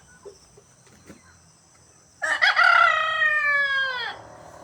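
A rooster crows once, loud and close, a long drawn-out call after a few seconds of near quiet with faint scattered clicks.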